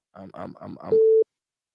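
A telephone busy or call tone sounds once as a steady, loud held note after a short burst of speech, cutting off abruptly just past a second in.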